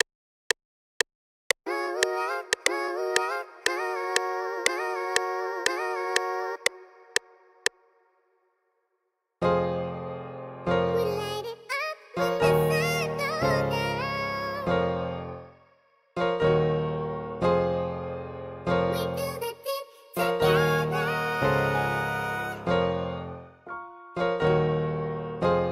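Vocal samples from the Arcade plugin, built into a soul melody: a short plucked, choppy phrase first, a pause, then fuller sustained chordal vocal-like layers in bursts, loud and up front with no talking.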